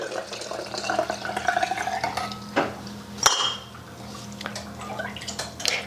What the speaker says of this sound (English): So we'll start off by filling all the jars.